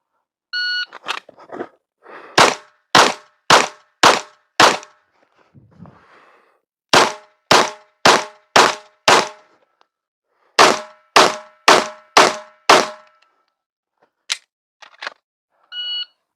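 Pistol shots ring out at targets during a timed shooting drill, loud and close, fired in quick spaced strings of four or five with short pauses between the volleys.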